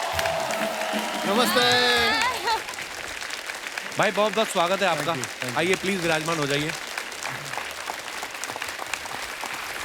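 Studio audience on a comedy talk show applauds and cheers loudly for a music composer duo, a dense wash of clapping that swells, then continues under a host's warm spoken greeting.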